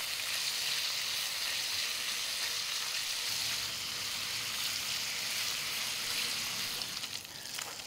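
Red onion dropped into hot bacon grease, a steady dense hiss of frying that fills the whole clip at moderate level, with no talk over it.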